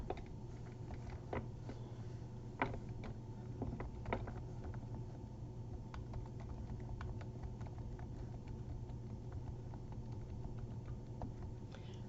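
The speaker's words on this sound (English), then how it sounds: "You just keep typing" Keystrokes on a computer keyboard while working in a word-processing document: faint, sparse clicks and short bursts of typing over a steady low hum, with no talking.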